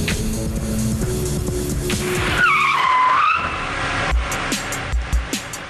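A car's tires squeal loudly under hard braking, a long rising and falling screech over road and engine noise, followed by a few sharp thuds.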